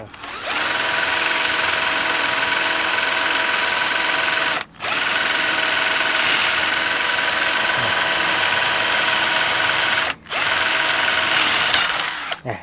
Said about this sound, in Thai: เจาะได้รูหนึ่งละ